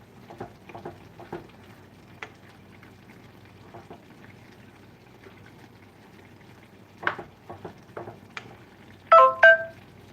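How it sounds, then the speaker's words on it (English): A phone gives a short double electronic notification chime for an incoming text message in a home kitchen. The beeps are brief and clear near the end, after scattered soft clicks and tapping. "There's my cousin Jerry texting again"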